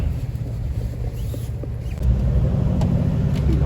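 A 6-litre V12 car engine rumbles nearby with a steady low growl that swells noticeably louder about halfway through.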